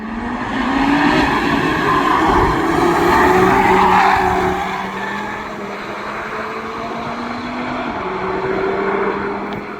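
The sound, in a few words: updated RS3 car lapping the Nürburgring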